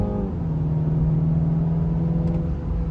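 A Mini car at full throttle gives a steady, droning engine note that holds level and close throughout, with no talking over it.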